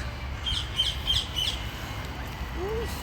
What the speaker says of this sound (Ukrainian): Я здивована, що ці папуги тут.